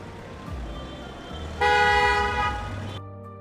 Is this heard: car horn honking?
yes